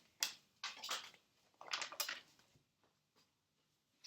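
Tarot cards being shuffled during a reading, a few soft papery riffles and flicks in short bursts, then quieter taps, close and fairly faint with no talking.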